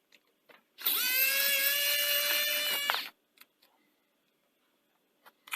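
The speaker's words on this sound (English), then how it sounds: "You do have to undo these screws." An electric screwdriver whirs steadily for about two seconds, close by, while screws are undone on a Grundig VP 100 CVC video recorder, followed by faint handling clicks.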